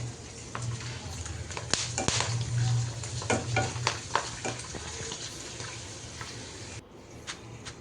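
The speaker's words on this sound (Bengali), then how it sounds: "এই চিপসটা ভাজতে খুব ভালো লাগে, তেলে দিলে সুন্দর ফুটে যায়।" Chips frying in hot oil give a steady close bubbling sizzle with scattered crackles and pops throughout, a low hum underneath and a brief dip near the end.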